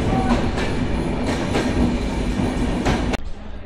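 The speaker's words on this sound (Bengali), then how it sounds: "আমাদের ট্রেনটা রাইট টাইমেই স্টেশনে প্রবেশ করছে" Drutojan Express train entering a station, a loud continuous rumble of railcars with faint clatter, cutting off abruptly near the end and leaving quieter ambience.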